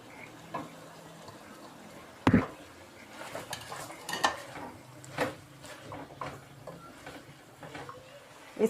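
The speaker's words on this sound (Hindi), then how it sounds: "इसके अंदर हम ये आलू डालेंगे और साथ हम ये गाजरें डालेंगे।" Potatoes and carrots dropped into a pan for a Chinese vegetable dish, a sharp clattering thump followed by lighter scattered knocks and utensil clinks, fairly quiet and close, with no voices.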